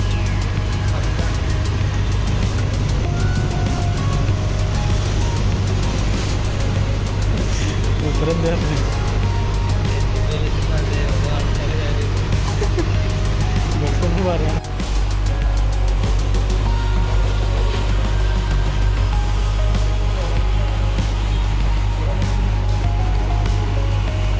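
A Kawasaki motorcycle engine idles just after starting, a steady low rumble running throughout while a person talks over it.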